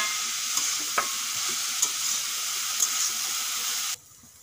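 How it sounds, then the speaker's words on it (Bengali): Banana stem stir-fries with prawns in a pan, a loud, continuous sizzle punctuated by a few sharp scraping clicks of the spatula before the sound cuts off abruptly near the end. "এই দেখুন কলার থোড় ভাজা হয়ে গেছে"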